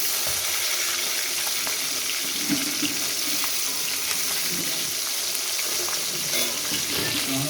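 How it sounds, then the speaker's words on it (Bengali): Continuous loud sizzling hiss of silver carp fish frying in hot oil, with occasional soft pops, steady throughout. "মাছটা উল্টিয়ে দিয়েছি। মাছগুলো ভাজা হয়ে গেছে"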